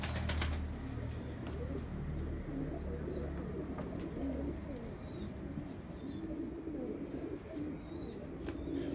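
Pigeons in a coop coo in soft, repeated low calls, with faint chirps and a brief flutter of wings against a steady background hum.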